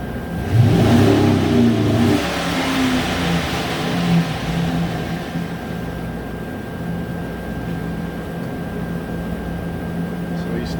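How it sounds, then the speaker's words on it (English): A 2010 GM truck engine idles with a low, steady rumble after a brief louder rev to fuel cutoff at the start, a constant tone running through it. "Do not let the engine over accelerate past safety fuel cutoff."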